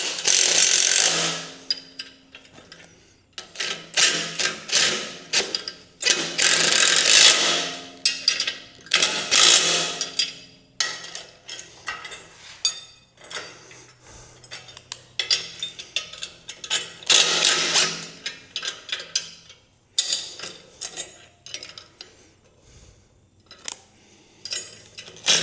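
A hand tool works at a part on a Mech Max SG24 stump grinder, giving repeated bursts of metallic ratcheting and clicking with short pauses between strokes, close and fairly loud.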